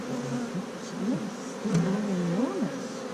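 Large honeybee drones buzz steadily at close range during a hive inspection, with a wavering, continuous hum that rises and falls as they move.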